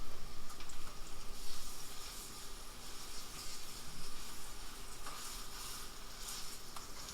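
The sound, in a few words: chicken sizzling in a frying pan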